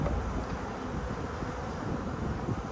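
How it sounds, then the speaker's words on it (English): Bees swarm around a newly set-up hive, giving a dense, steady buzzing hum close by with no talking. "Brush the bees out of the way."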